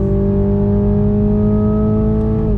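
Revving steadily upward, a 2021 Toyota Supra 2.0 four-cylinder turbo accelerates loud and close, its engine tone rising smoothly before dropping off right at the end.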